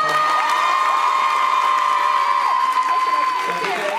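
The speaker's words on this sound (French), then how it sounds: "alors on peut l'applaudir" Audience at a Paris film premiere cheering and applauding, a loud steady crowd roar with whoops and a sustained high tone over the clapping, continuous for the whole stretch.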